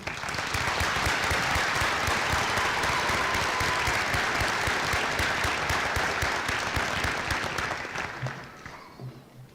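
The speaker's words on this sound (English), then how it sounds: "please join me in giving a round of applause to this exceptional graduating class of 2022" A large audience at a college graduation ceremony applauds the class of 2022, sustained loud clapping from a big hall that holds steady and then fades out near the end.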